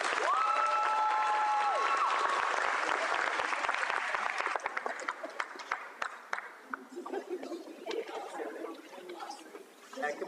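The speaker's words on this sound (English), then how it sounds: "And can we have one big round of applause for all of our scholars?" Audience applause at a law school signing day event, dense sustained clapping from a large crowd that thins into scattered claps, with a voice briefly audible early on.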